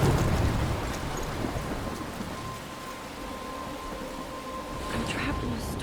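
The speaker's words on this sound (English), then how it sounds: "I'm trapped in a storm?" A rainstorm in the game Life is Strange, steady heavy rain hiss with a low rumble of thunder, fading slightly in the middle and swelling again near the end.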